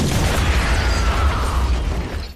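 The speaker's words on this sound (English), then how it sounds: "clipping his would-be killers with an M16, equipped with a grenade launcher" Gunfire from an M16 fitted with a grenade launcher in the film Scarface: loud, dense rumbling bursts and booms that run continuously and fade slightly at the end.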